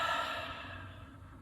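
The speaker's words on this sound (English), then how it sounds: "And then exhale" A slow, soft exhale of breath during a guided breathing exercise, close and quiet, fading gently over a second or so.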